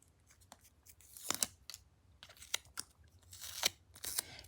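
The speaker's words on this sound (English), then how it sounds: "And I will just take the sticker off." A sticker is peeled off its backing during a Super Mario Kinder Joy egg unboxing, giving several short, close crinkly tearing and rustling bursts with quiet pauses between them and no talking.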